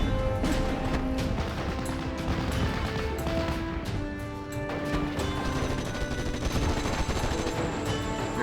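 Battle noise from the WWII strategy game Steel Division: Normandy 44, with dense bursts of gunfire and artillery counter-fire crackling and booming continuously, loud and layered with no pause.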